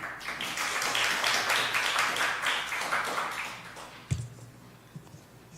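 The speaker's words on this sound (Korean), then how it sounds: "박수로 환영해 주시기 바랍니다." Audience at a Methodist seminary lecture claps to welcome a speaker to the front: a moderate round of scattered clapping that fades after about four seconds, followed by a few soft thumps and rustles.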